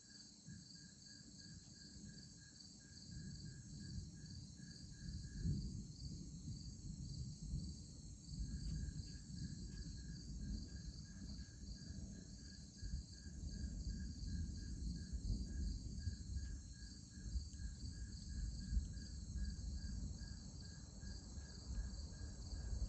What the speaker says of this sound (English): And of course a bajillion and 9 crickets.